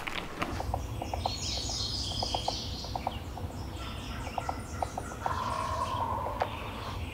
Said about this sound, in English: Hen just yelped down here